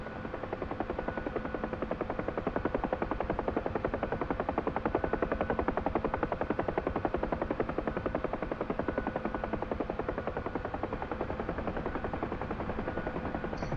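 Bell UH-1 Huey gunship helicopter slowing into a hover during a training flight, its steady rapid rotor chop and turbine drone filling the cabin continuously and loudly, with no voices over it.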